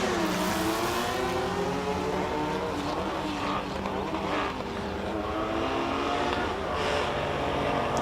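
A Shelby Nissan Can-Am race car with a 3.5-litre six-cylinder engine blasts up a hillclimb course, its engine note rising and falling through gear changes and holding loud and fairly near for several seconds.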